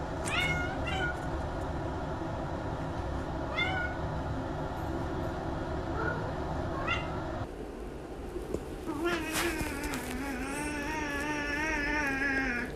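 Kitten meowing in a workplace setting, several short cries spaced through the first half, then a longer rising wail later, with a steady background hum throughout.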